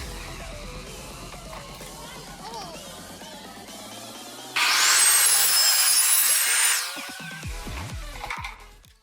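A power tool cuts wood for a crate coffee table, winding up with a rising whine into a loud, sustained shrill cut of several seconds, then spinning down as the blade slows.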